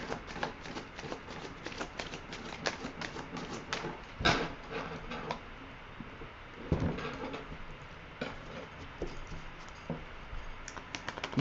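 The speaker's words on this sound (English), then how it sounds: "Let me shuffle again." Tarot cards are shuffled by hand in a quiet room, a run of soft riffling and tapping with a few sharper snaps, close and faint.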